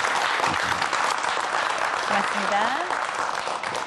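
Audience applause after a lecture on the science of taste, dense and steady clapping from a crowd throughout, with a voice briefly speaking over it near the middle.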